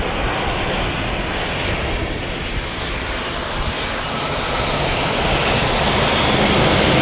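A Ryanair Boeing 737-800 lands at Manchester Airport with a steady, loud, broadband jet roar that holds throughout and swells slightly toward the end.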